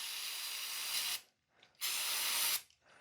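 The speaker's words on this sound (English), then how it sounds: "spray this down inside where the trigger is" Parts cleaner sprays inside an Accuracy International competition rifle trigger in two steady, close hissing bursts, each about a second long, separated by a short pause.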